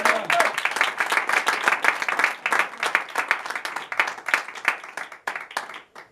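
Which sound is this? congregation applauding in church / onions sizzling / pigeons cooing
congregation applauding in church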